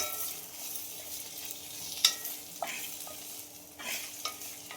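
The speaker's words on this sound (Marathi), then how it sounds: "आता आपण हे भाजून घेऊ छान तेलामध्ये फ्राय करून घेऊ" Dried bombil fish paste fries in hot oil with a steady soft sizzle, broken by a few sharp scrapes and clicks of stirring, fairly quiet and close, with no voices.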